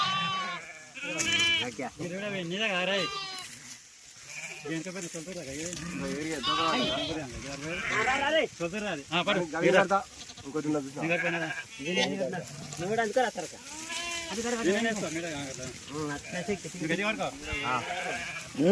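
Sheep bleat repeatedly nearby, wavering calls overlapping with people talking in the background.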